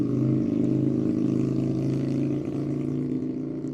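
A motorcycle engine drones loud and close at a steady pitch, holding an even rumbling note throughout with no voices.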